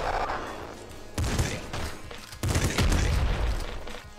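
Bursts of rapid gunfire and projectile impacts in the video game Nuclear Throne, two loud dense volleys crashing in over a busy game soundscape with no talking.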